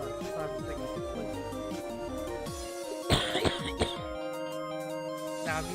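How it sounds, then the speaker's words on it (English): A few sharp coughs burst out around the middle, loud and close, over steady looping music from a Pokemon Reborn game playthrough. "Now, if you hear me coughing, I'm sorry."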